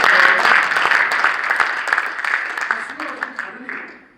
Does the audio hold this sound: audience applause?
yes